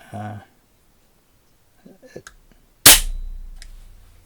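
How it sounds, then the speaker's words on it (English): A single sharp shot from a powerful air pistol cracks out loud and close, then decays with a low lingering ring, preceded by a brief burst of sound and some faint mechanical clicks. "interesting and unusual aspect of this gun is how quiet it is. It's surprisingly mild to shoot."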